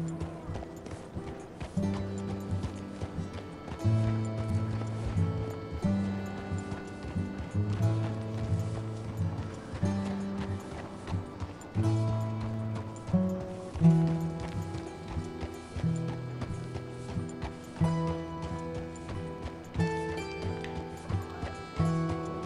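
Horse hooves clip-clop at a walking pace in Red Dead Redemption 2 on the streets of Saint Denis, a steady rhythmic clatter under sustained game music, with faint voices.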